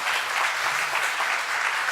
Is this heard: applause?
yes